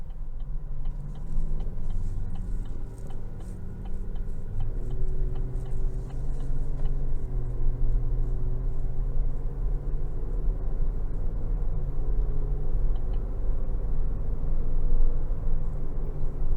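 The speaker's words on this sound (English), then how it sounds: "take this Suburban LS out on the road for a quick test drive." A 2023 Chevrolet Suburban LS with a 10-speed transmission cruises on the road, heard from inside the cabin. A steady low engine and road rumble continues throughout, with faint ticking above it.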